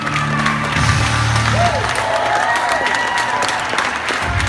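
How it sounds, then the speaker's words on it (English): Crowd applause and cheering at a SeaWorld San Antonio water show, loud and sustained from a large audience, with scattered whoops over steady clapping. "Big round of applause."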